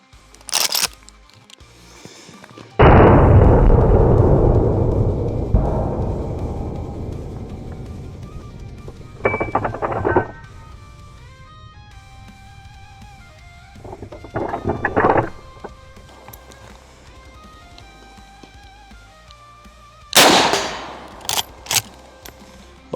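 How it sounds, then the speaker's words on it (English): Lever-action rifle shots at an outdoor range: a few sharp, loud reports spaced out across the stretch, one with a long rolling echo, plus smaller clicks that fit working the lever between shots. "All right, a little bit of shooting."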